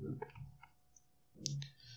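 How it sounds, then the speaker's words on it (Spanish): A few computer mouse button clicks sound softly in a quiet room, spaced irregularly with a small cluster near the middle, under no speech. "presionamos la tecla Shift o desplazar, haciendo clic, clic, clic o clic con el botón derecho"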